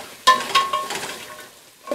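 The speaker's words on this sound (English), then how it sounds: "We've got some bay leaves, onions, garlic, carrot and celery. And we're just going to saute this for about 2 to 3 minutes." Bay leaves, onions, garlic, carrot and celery sautéing in a pot for beef and barley soup, with a few close scraping stirs over soft sizzling.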